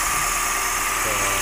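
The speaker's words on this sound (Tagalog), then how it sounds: "Pinainit ko yung makina, nakasara yung aircon." A car engine idles steadily while warming up with the air conditioning switched off, a continuous near low rumble with a faint mechanical hum running alone throughout.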